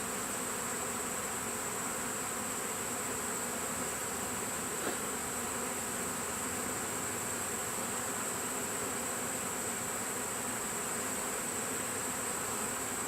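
A bee swarm entering its hive late in August makes a dense, steady buzzing drone that holds level for the whole stretch, with no talk over it.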